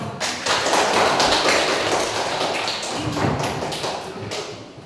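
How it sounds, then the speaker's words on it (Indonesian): A classroom of students applauding together, producing a dense, steady wash of claps with soft thumps, fairly loud and close, tapering slightly toward the end. "Ya, tepuk tangan dulu."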